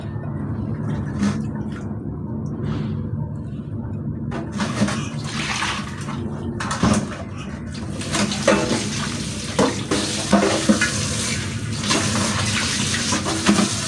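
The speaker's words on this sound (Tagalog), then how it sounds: "Hugasan na natin ito." Running tap water pouring over meat being washed in a home kitchen before cooking menudo, a steady rushing stream with irregular splashes and handling noises as the pieces are rinsed, close and fairly loud.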